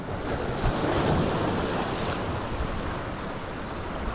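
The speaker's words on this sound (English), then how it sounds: "Waves are pretty big right now." Big ocean surf breaks and washes onto a beach at high tide, a steady broadband roar with wind buffeting the microphone throughout, no voices.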